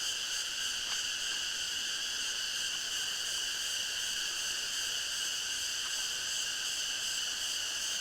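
Dense, shrill cicada chorus drones without a break, layered bands of buzzing trills filling a quiet forest at Ponmudi hill station, Kerala.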